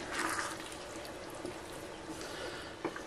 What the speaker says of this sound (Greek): θα προσθέσω και ένα ποτήρι καυτό νερό